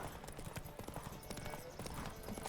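Horse hooves clip-clop steadily in The Witcher 3 during a horse race, a fast rhythmic stream of hoofbeats over game background sound, with a faint voice now and then.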